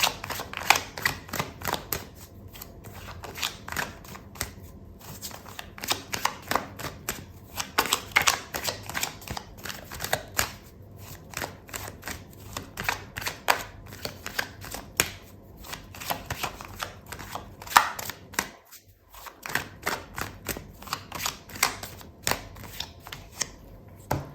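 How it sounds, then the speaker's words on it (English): Tarot cards are shuffled continuously at close range during a love reading, a dense run of quick papery riffles and flicks with short pauses and no talking. "I'm gonna pull out another card for you"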